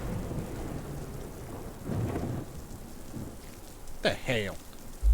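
Thunderstorm with rain in the video game Death Stranding, a steady rain wash with low rumbling thunder swelling in the middle, plus a brief game sound near the end; no talk.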